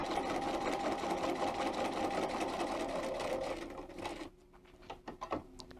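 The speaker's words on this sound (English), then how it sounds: "I'm going to sew till I get to letter D." A Bernina 335 sewing machine runs a seam at steady, fast speed, loud and close for about four seconds before stopping, followed by a few soft clicks and handling sounds.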